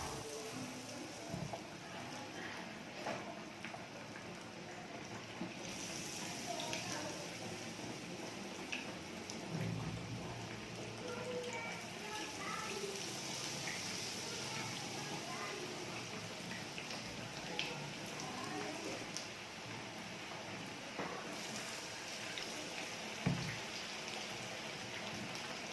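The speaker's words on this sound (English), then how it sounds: "Then I'm going to dip them inside my oil." Potato maru bhajia frying in hot oil, a continuous dense crackling sizzle with scattered pops that stays fairly faint and even throughout, with no talking.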